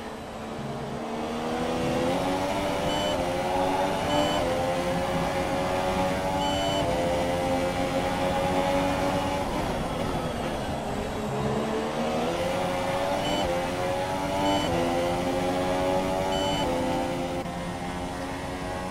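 F1 race cars in a video game, Australia round of the OBRC championship race, scream past with sustained high-revving engine notes that rise and fall through gear changes, loud and continuous with no talking.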